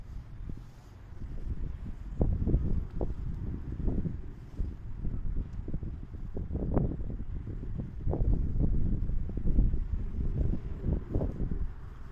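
Gusty wind buffets the microphone outdoors in a garden during onion planting, a continuous low rumble rising and falling in strength throughout.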